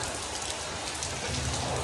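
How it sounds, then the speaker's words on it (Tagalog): Heavy rain pours down steadily in a dense, continuous hiss of drops drumming on surfaces, loud and unbroken, with no voices. "Malakas ang ulan."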